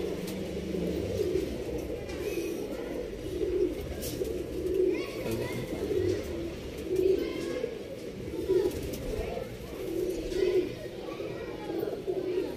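A loft of paired pigeons gives off steady, overlapping cooing, with rhythmic rolling coos repeating every second or so over a constant background murmur while someone talks faintly.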